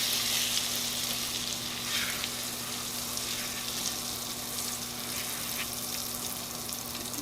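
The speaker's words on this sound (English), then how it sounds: "As we melt our grease here, we're going to add flour." Grease melts and sizzles in a pan as flour goes in, giving a steady, dense frying hiss close by for several seconds with a faint low hum underneath and no talking.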